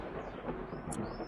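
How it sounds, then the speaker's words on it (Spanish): A thunderclap during a heavy nighttime rainstorm, a brief, deep rumbling roll heard on its own without any voices. "de repente otro trueno sonó"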